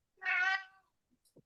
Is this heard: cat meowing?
yes